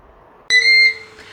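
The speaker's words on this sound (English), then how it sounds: "did you hear that? That was the beep." A single electronic beep from an air fryer sounds abruptly, bright and tonal, lasting about half a second, close and loud in a quiet room.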